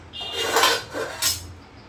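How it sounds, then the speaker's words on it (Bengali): A cooking pot of fried rice being set down onto a metal griddle over a gas flame, two distinct clanking metallic knocks close up, the second sharper, with no talking. "এবার আমি হাঁড়িটাকে একটা তাওয়ার উপরে বসিয়ে গ্যাসের ফ্লেমটা একদম"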